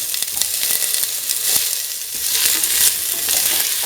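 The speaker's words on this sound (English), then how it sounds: "Saute." Ivy gourd sautés in a pan with a steady bright sizzle, broken by occasional stirring scrapes, and no voices.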